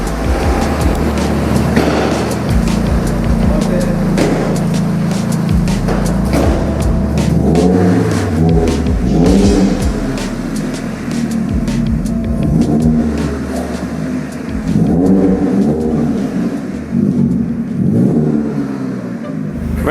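An unfinished project car's engine runs and warms up after starting, a loud, continuous rumble with uneven revs rising and falling for the full stretch.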